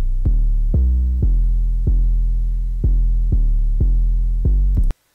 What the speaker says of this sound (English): The other thing that I added in this section was an 808, which sort of follows the progression of the chops.